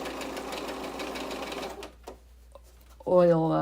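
A Bernina sewing machine runs steadily with a rapid mechanical chatter, stops briefly, then starts again louder with clicking, close by.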